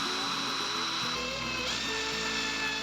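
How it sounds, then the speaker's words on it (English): A power drill pre-drills screw holes in hardwood for a sit-stand desk, a faint, steady motorised whine with shifting pitch heard at a distance. "I'm actually going to pre-drill each of these just to make them a little bit easier to go in"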